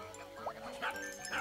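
A dog in the video game Axel & Pixel gives a few short yips and barks in quick succession, soft and close, with faint game tones behind.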